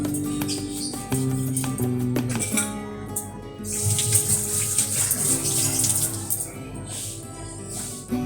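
Tap water running over dishes being scrubbed at a home kitchen sink, a continuous splashing wash with clinks of utensils and tonal kitchen noise underneath.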